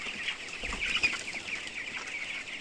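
Many broiler chickens cluck and murmur together in a continuous chorus, a busy flock heard close by with no talking.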